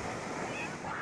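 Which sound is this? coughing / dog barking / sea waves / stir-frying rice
sea waves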